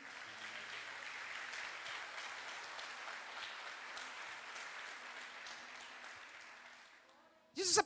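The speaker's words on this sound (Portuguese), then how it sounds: "Você pode aplaudir o Senhor por isso?" Church congregation applauding steadily for several seconds, a dense wash of hand claps that tapers off before a brief louder burst at the end.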